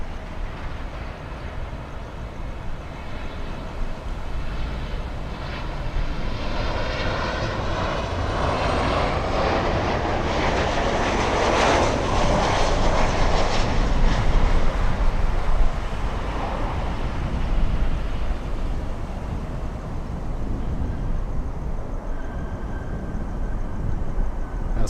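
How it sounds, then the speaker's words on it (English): A Boeing 767 freighter on final approach to runway 9 at Miami International Airport, its engine roar rising steadily, peaking mid-pass and lingering as a loud, continuous rumble with no talk. "Let's go for the 767 freighter on final."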